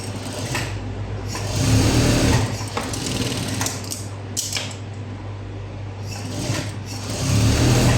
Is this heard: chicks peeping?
no